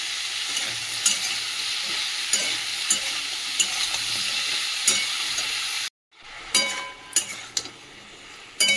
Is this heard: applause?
no